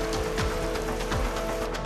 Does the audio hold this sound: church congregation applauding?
no